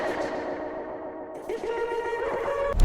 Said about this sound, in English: Then a reverb.